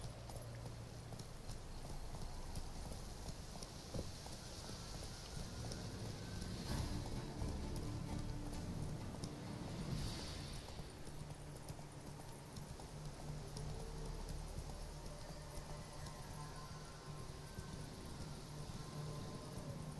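Roach the horse's hooves in The Witcher 3, a faint, steady clip-clop of trotting going on throughout under a low ambient bed, with no talking.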